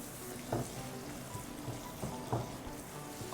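Chopped garlic, ginger and green chili sizzle softly in melted butter in a pan, a faint steady frying crackle with a few light stirring clinks and taps, no voices.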